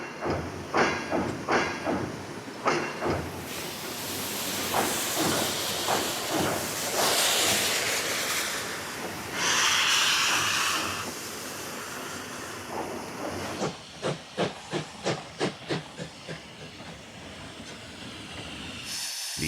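A class 140C steam locomotive gives off a long, loud hiss of escaping steam, with rhythmic exhaust chuffs before and after it in the open air.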